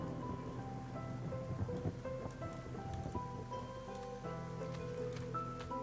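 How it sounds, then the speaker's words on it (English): Soft rain patter in the video game Against the Storm, a steady hiss of drops beneath calm melodic music with sustained tones, quiet and continuous throughout. "the sounds of the rain and the calm music atop it"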